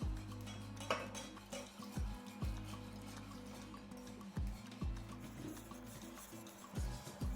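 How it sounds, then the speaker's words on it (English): A whisk scrapes and clinks steadily against a pan as milk is worked into a roux for béchamel, soft rhythmic metallic ticks close by with no talking. "now I'm going to switch from my wooden spoon to a whisk"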